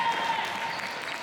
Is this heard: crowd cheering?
yes